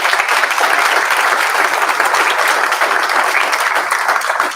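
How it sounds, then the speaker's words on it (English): A large audience gives a loud, sustained round of applause after a presentation at a youth showcase evening. The dense clapping stays steady throughout and eases slightly at the very end. "Give Joe another massive round of applause"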